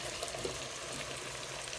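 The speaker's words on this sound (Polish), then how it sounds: "do podsmażonej kiełbasy z cebulką wyrzucamy pieczarki" Quiet, steady sizzling of mushrooms frying in a pan with sausage and onion, a soft continuous crackle with no talking.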